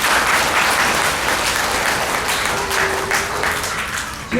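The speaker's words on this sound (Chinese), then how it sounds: "所以我们给上帝一个掌声" Warm applause from a church congregation during a children's memorial Sunday service and graduation ceremony, steady massed clapping throughout, close and full, with a brief held tone briefly audible underneath.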